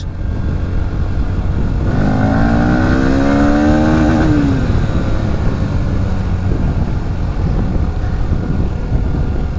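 A Bajaj Pulsar NS160 motorcycle engine climbs steeply in pitch toward high rpm, then drops back, all under a loud, constant roar of wind and road noise while riding.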